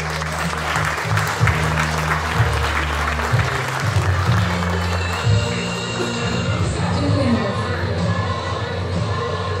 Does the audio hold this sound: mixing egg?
no